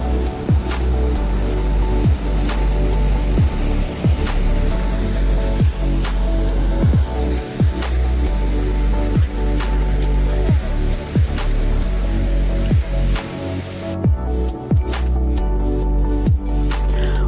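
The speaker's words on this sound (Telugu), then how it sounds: "రివర్ క్రాస్ చేస్తున్నాం" A cold mountain river rushes in a steady, loud roar during a trek crossing on the Hampta Pass route, with regular dull thumps and splashes repeating through it and no talk.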